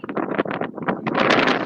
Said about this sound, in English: the wind's pretty intense